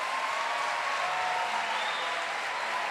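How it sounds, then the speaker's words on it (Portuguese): An audience claps in a steady, dense wash of applause at a religious youth gathering, sustained and fairly loud throughout the short stretch without pauses. "E aplauda essa pessoa que está do teu lado."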